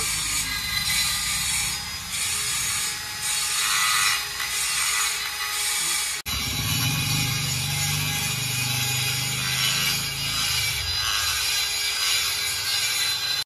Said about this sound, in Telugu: కొన్ని మిషన్లను యూజ్ చేసి అయితే ఇట్లా చెక్కడం కూడా అదొక ఆర్టే.